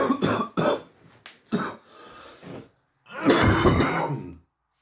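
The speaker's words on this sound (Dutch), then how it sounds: "Echt keihard hoesten." A man coughs hard and clears his throat loudly in the morning, a run of harsh, close bursts and rasping hacks with brief pauses, ending in a longer, heavy cough.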